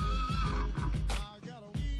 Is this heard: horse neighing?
yes